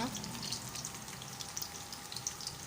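Shellfish deep-frying in a pan of oil on a home stove, a faint, steady hiss and fine bubbling crackle running throughout with no clear voices.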